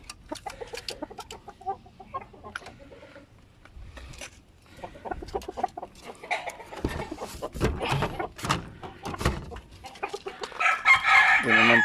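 Backyard chickens cluck and squawk nearby while a rooster, among them a young stag, crows, the calls growing louder and busier toward the end, with faint voices in the background.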